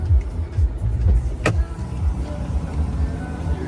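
Electric power windows on a 2020 Chevrolet 1500 LT Trail Boss pickup, a low motor whir running under a steady cabin hum, with a brief click partway through.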